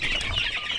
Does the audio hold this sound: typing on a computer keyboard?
no